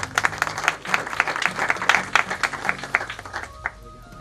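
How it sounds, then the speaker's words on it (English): Audience clapping at a Rotary club dinner in Bwebajja, Uganda: a brisk, uneven burst of many hands that runs the whole few seconds and eases slightly near the end. "Clap for them."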